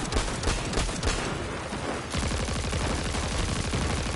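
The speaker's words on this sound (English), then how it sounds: "Let's put this auto rifle loose." Rapid auto rifle fire in Destiny 2, a steady close stream of sharp shots with a short pause in the middle before the firing resumes, nothing else audible.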